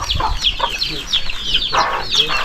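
Chickens cluck close by in a simple rural village setting, with several short, overlapping clucks and calls coming in loose bursts over a noisy outdoor background.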